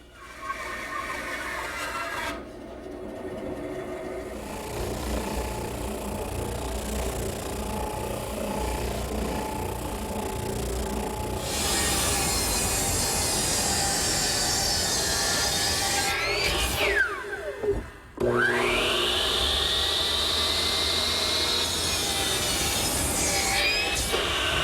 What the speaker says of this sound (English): we'll start by cutting that on the bandsaw